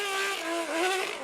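BMW M1 ProCar race car engine idling close up, a steady harmonic drone with slight wavering pitch dips, loud and alone with no talk.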